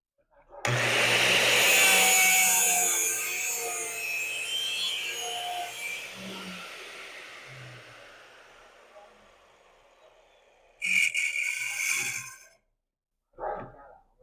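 A machine cuts through a round metal tube as it is rotated against the blade, giving a loud, steady grinding rasp for several seconds that tapers off, followed by two shorter bursts of cutting.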